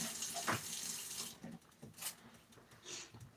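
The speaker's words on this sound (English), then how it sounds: "I am going to scrub this fork so I can use it again" Tap water runs into a kitchen sink while a fork is scrubbed clean, a soft, uneven splashing and trickling that rises and falls in close, quiet bursts.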